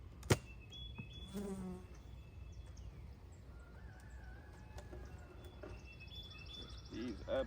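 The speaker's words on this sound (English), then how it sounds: "There's bees absolutely everywhere." Honeybees buzz around an open beehive during a hive inspection, a steady faint insect drone with a few thin tonal whines drifting over it and a sharp knock near the start; no speech.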